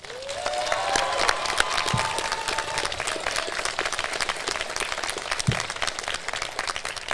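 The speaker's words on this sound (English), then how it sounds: "Graduates, please join me in adding your applause as we thank the dedicated faculty" Graduates at a Klamath Community College commencement applaud the faculty: dense, sustained crowd clapping with scattered whistles and cheers rising over it, loud and continuous throughout.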